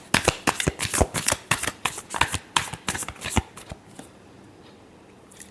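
Tarot cards are shuffled by hand in a quick run of crisp riffling slaps and snaps, close and loud, stopping after a few seconds and leaving near silence.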